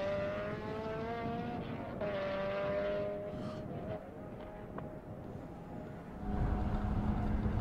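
A race car at Circuit of the Americas sweeping through a sequence of corners, engine note steady then shifting as it rises and falls, heard at a distance with a louder surge near the end.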